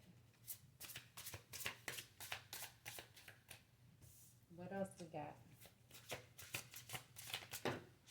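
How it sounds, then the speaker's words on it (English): Repeated riffle shuffles of a deck of cards, crisp bursts in quick succession, with brief talking in the middle. "Maybe final shuffle."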